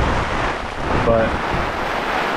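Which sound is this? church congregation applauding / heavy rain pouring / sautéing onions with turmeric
heavy rain pouring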